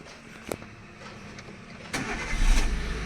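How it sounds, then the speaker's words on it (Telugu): A Chevrolet Beat LS car engine cranks briefly and catches on one try, then settles into a quiet idle close by, preceded by a couple of small clicks. "సింగిల్ సెల్ఫ్తో స్టార్ట్ అయిపోయిందన్న ఇంజన్ అనేది"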